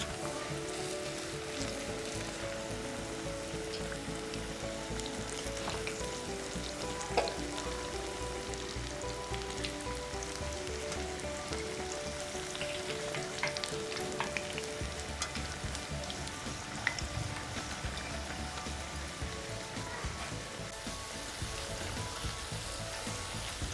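Potato and spinach pakoras deep-frying in hot oil, a dense continuous crackling sizzle that runs steadily without pause, with occasional small pops, moderately loud and close.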